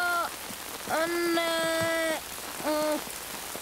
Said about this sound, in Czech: Začíná pršet.